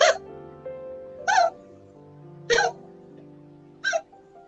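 A voice imitates an elephant's hiccups in a children's stick puppet story: four separate short, loud hiccup sounds spaced about a second apart, heard close with a faint music background.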